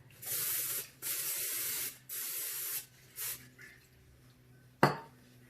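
Four hissing bursts of Pam aerosol cooking oil sprayed into an 8 by 5 inch loaf pan, each about a second, the last short, followed by a sharp clink of the metal pan.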